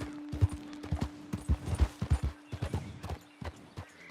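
Horse hooves clip-clop in Red Dead Redemption 2, an uneven run of close, heavy thuds over a steady low hum, with no talking.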